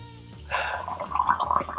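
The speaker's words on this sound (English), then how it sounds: "I'm going to pour." Tea pours from a teapot into a cup after a brief quiet moment, a bubbling, gurgling stream of liquid that grows fuller as the cup fills, with a low hum underneath.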